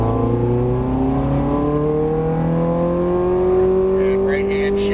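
A Ferrari engine pulls hard on a race track, a loud, steady in-car roar with harmonics climbing in pitch as it accelerates through the gears.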